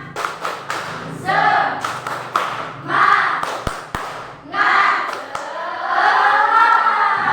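Students in a classroom beat out a rhythmic spirit clap as an icebreaker, crisp patterned claps and thumps punctuating bursts of loud group chanting and voices.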